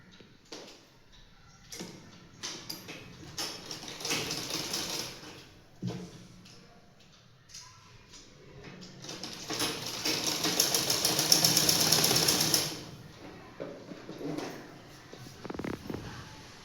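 A sewing machine stitches cloth in a home tailoring lesson, running in short stop-start bursts of rapid clattering that build to one longer, steady run before easing off into quiet handling sounds.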